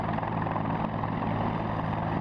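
A search-and-rescue helicopter drones steadily and loudly throughout, its rotor and engine forming a constant, close, unbroken roar with no voices.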